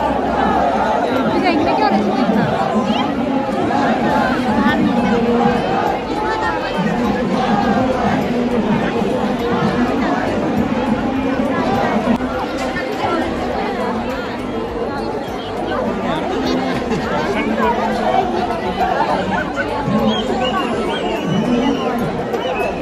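Crowd at the end of a football match in Munsyari, a continuous hubbub of many voices chattering at once, loud and close, with occasional thuds.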